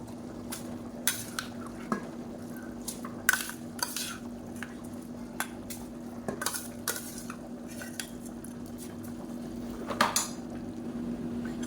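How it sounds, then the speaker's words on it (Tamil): Half a kilo of soaked seeraga samba rice being stirred into a boiling mutton biryani pot, with repeated metal spoon clinks and scrapes against the pot over a constant low bubbling hum. "இப்போ அரிசி போட்டு கலந்தாச்சு"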